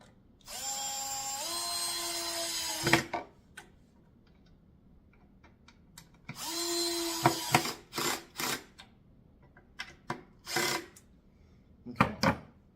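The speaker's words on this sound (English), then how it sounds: "And again, just drill these down." A power drill drives long wood screws into the underside of a kids' wooden chair in short whirring bursts, followed by sharp clicks and knocks of handling the parts, close and fairly quiet.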